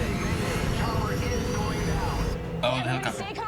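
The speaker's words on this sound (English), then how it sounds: "Oh, the helicopter." A helicopter in a Supergirl season 4 TV episode gives a steady, loud broadband rumble that runs the whole way through, with voices talking over it and a brief shift in texture near the end.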